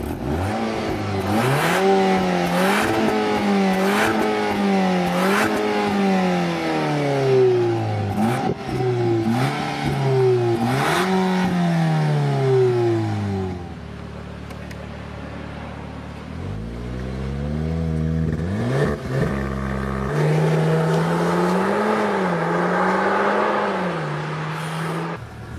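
A VW T-Roc R 300 4motion (2020) accelerating hard on the road, loud and close, with repeated rising engine revs and gear changes, a brief quieter stretch midway, then another strong pull.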